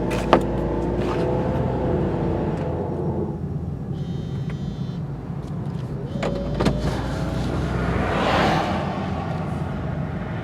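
A steady in-car drone with low rumble and a whirring blower hum, a few brief clicks and a rising whoosh near the end.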